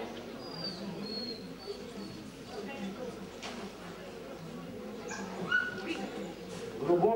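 A dog whimpers softly in short, high whines, mixed with faint yips amid background voices and room noise at an indoor dog show.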